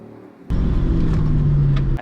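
A Ford Mustang V8 muscle car engine starts up abruptly and rumbles steadily at close range, a deep idling drone with no voices.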